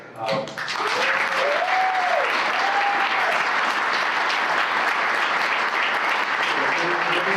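An audience at a membership meeting breaks into sustained, loud applause after a brief voice at the start, the clapping holding steady with a few whoops over it.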